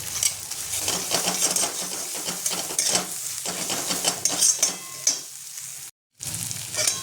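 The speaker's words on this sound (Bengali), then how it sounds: "মশলাটা আমার কষানো হয়ে গেছে" A ground spice paste with mustard is sautéed in a pan for a Bengali-style fish curry, giving a loud sizzle under rhythmic spatula scrapes and clinks, briefly cut off near the end and then resuming.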